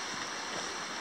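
Steady rushing water of the Río Azul river in Patagonian mountain country, a constant broadband flowing hiss heard nearby with no voices.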